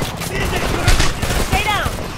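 Rapid bursts of gunfire in the shooter Homefront, crackling volleys close and sharp amid combat, with shouted voices mixed in over the din.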